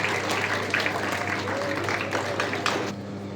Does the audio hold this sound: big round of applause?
yes